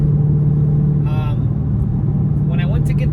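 A car being driven to a tuning shop, with worn engine mounts, gives a steady low engine drone and road rumble that stays constant throughout. Brief voices rise over it twice.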